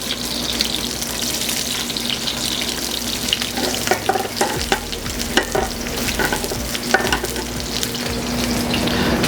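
Onions frying in oil in a hot pan, giving a steady, close sizzle with occasional scraping and stirring clatter throughout.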